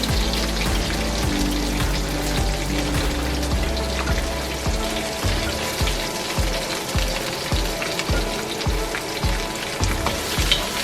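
Spring onion, mushroom and other vegetables sizzle steadily in a hot pan for beef stir-fry noodles, a loud continuous crackle with regular scraping strokes of a spatula through the second half.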